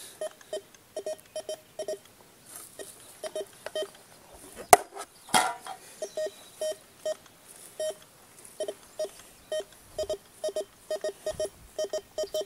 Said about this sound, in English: Those quick little those beeps that are back to back, those are almost always nails.